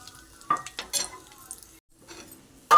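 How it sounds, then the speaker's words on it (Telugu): Dry red chillies fry in hot oil in a pan for bottle gourd chutney, giving a soft sizzle broken by a few sharp clinks and scrapes of a spoon stirring against the pan, with no talking. "మిర్చి ఫ్రై చేసుకోవడం కోసం కావాల్సినంత ఆయిల్ వేసుకొని కొంచెం హీట్ అయిన తర్వాత అందులో ఎండుమిర్చి వేసుకోవాలి"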